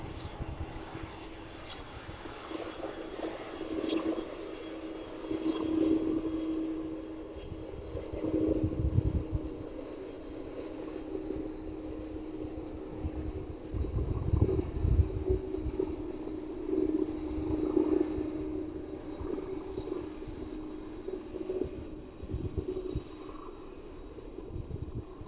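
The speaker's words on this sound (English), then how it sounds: "the UPS 767 making its way right past us this evening" At East Midlands Airport, a UPS Boeing 767 taxis past in the evening, producing a steady, fairly close jet-engine roar with a droning hum that swells and eases slightly as it moves by.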